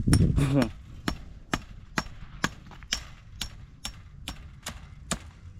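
Wooden stakes are hammered into the soil of a home vegetable garden, with about ten sharp, evenly spaced knocks following a brief burst of voices at the start.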